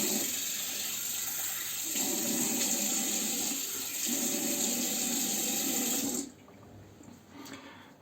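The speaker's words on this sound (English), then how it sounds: "I'll just wet my face a little bit" Tap water runs steadily and fairly loud from a faucet into a sink while the face is wetted before shaving with a Merkur Progress razor, then cuts off abruptly near the end, leaving quieter splashing.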